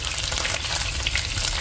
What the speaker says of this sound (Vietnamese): Ở đây mình bắt một chiên cá luôn nha. Này cá mình chiên tươi cả nhà.